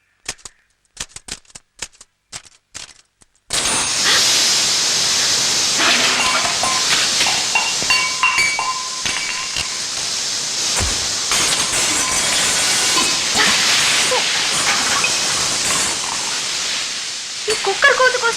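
A pressure cooker in a kitchen first gives a few sharp, sparse clicks, then bursts into a loud, continuous hiss that holds steadily until the end.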